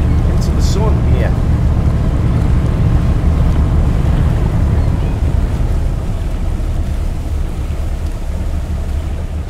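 A tuna fishing vessel underway at sea gives a constant loud roar of engine, wind and waves, steady throughout with a voice faintly heard early on.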